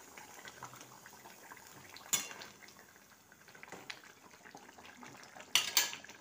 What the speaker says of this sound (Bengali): এবার 2 মিনিট পরে ঢাকাটা খুললাম, ভালোভাবে নেড়ে নিলাম।